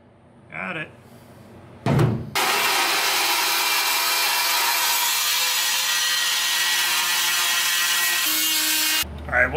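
Steady, loud power-tool cutting as a 4-inch hole saw bores through, running unbroken for about seven seconds after a couple of brief knocks, then cutting off abruptly.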